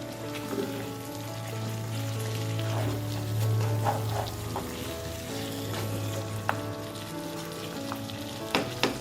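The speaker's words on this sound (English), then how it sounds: "I'm now going to cover and let this curry cook on a low flame for another 10 minutes." Curried mutton bones simmering in a pot on a low flame, a soft continuous sizzle and bubble with a steady low hum and occasional small pops and clinks, no talking.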